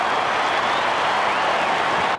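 A large crowd at an Australian football match breaks into loud, sustained applause and cheering after a goal, a dense wash of clapping that holds for the whole stretch.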